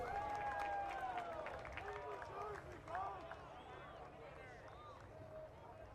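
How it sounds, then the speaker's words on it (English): Crowd murmur at a college baseball game between Morehead State and Kentucky, a faint, distant wash of voices and scattered cheers with a few calls standing out, mostly steady and low. "It's good to hear the crowd."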